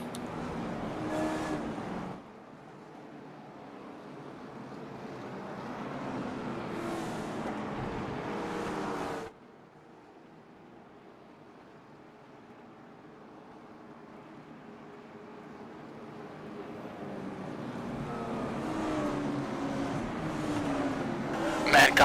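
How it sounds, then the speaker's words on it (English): Race cars taking the green flag at a short-track late model rookie event roar past in loud surges, an engine pass fading near the middle before a rising wave of cars builds back to full volume. "these cars are loud"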